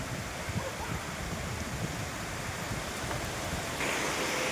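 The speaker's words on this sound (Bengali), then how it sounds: "এখানেও বৃষ্টির জল পড়ছে" Rainwater falls near a pond outdoors, a faint, even wash of broadband patter that stays steady throughout with a slight rise at the end.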